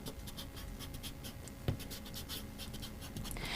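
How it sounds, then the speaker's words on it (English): An eraser rubs out pencil lines on paper in soft, quiet back-and-forth scrubbing strokes, with one faint bump partway through and slightly firmer rubbing near the end. "this is where you want to erase the lines that you no longer need"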